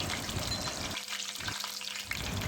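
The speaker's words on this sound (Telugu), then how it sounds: "వీటితో పాటు సాజీరా, లవంగాలు, యాలకులు, చెక్క ఇవన్నీ వేసుకొని బాగా వేయించుకోవాలి." Whole spices (mustard seeds, caraway, cloves, cardamom and cinnamon) frying in hot oil for a fish curry, a dense close crackling sizzle that dips briefly in the middle before rising again.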